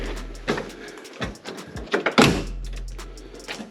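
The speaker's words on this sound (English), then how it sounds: "I love how these doors close." Car doors shutting in a cluttered home garage where cars are being moved out of winter storage, several solid thunks and clicks spread over a few seconds with faint rustling between them.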